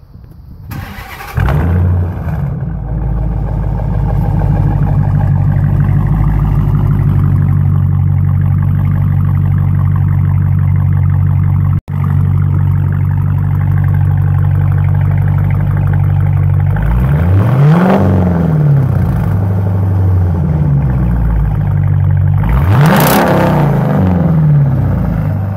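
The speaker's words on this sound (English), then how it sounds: "2014 Dodge Challenger RT 6-speed manual, straight pipes." 2014 Dodge Challenger R/T V8 with a six-speed manual and straight pipes keeping only the catalytic converters, cranking to life into a loud, deep burbling idle, then two sharp revs near the end, close up.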